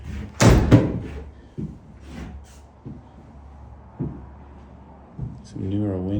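A door at the Arctic entry of a foreclosed house in Palmer, Alaska opens with a loud, close clatter and thump near the start, followed by softer knocks and footsteps, with a voice briefly at the end.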